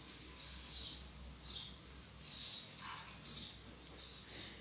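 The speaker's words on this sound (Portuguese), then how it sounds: "Esses passarinhos." Small birds chirp in the background in a steady series of short, high, fairly faint calls, about one burst every second, with no talking over them.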